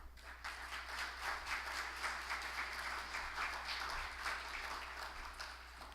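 An audience at a business forum on the Dominican Republic applauds a Grupo Corripio vice president as he is introduced as the next panelist, steady moderate clapping filling the hall with a constant low hum underneath.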